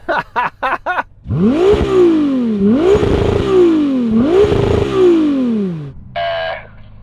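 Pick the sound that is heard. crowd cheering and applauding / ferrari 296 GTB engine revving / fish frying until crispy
ferrari 296 GTB engine revving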